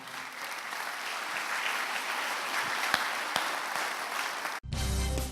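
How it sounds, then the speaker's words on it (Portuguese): Church congregation applauding steadily, a dense, even wash of many hands at moderate distance, cutting off abruptly near the end. "Vamos dar uma salva de palmas para o Senhor."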